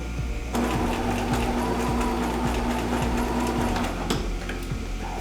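Sewing machine stitching down a detail on a denim jacket, running in a steady, fast rhythmic patter for about three and a half seconds after a short pause, then stopping, fairly quiet and without speech.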